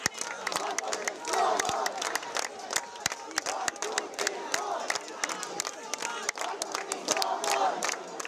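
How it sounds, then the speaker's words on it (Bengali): Students at a campus protest chant slogans in loud, rhythmic unison, a dense crowd of voices punctuated by sharp claps and shouts that repeat in waves throughout. "আবাসিক হলে ছাত্র রাজনীতি নিষিদ্ধের দাবি জানিয়ে স্লোগান দিতে থাকেন শিক্ষার্থীরা"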